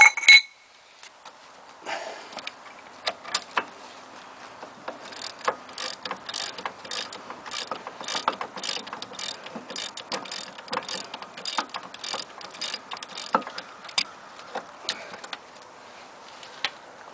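A 21mm socket on a breaker bar turning the front brake caliper mount bolt on a 2002 Jeep Liberty, a fast run of metallic ratchet clicks and ticks, close and clear with no talk.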